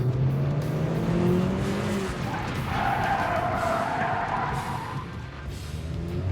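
Car accelerating at full throttle in a game-like driving scene, its engine note climbing over a steady drone while tyres squeal and skid in the middle, loud throughout.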